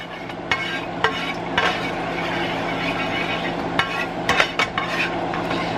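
Thick, heavy sauce stirred into food in a pan while cooking a meal-kit dinner, a steady broadband scraping and sizzling texture with sharp utensil clicks against the pan scattered throughout.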